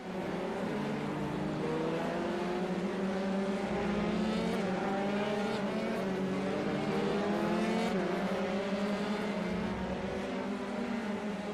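Formula 3 race cars lapping the Montreal circuit in the iRacing simulator, a steady loud engine drone with rising and falling harmonic whine as several cars pass, sustained throughout without talk.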